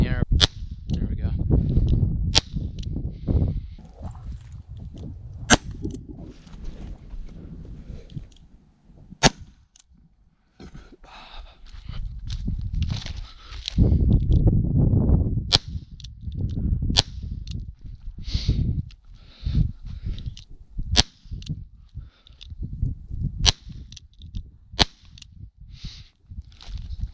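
Shotgun blasts at airborne clay targets from an H&R Pardner pump shotgun on an outdoor range, sharp loud reports spaced irregularly across the stretch, some in quick pairs, with rustling and handling noise between.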